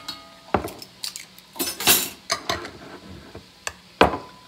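Spoon clinking and scraping against a pot while mixing spices and Dijon mustard, a series of sharp, close metallic taps and scrapes at an uneven rhythm with no talk.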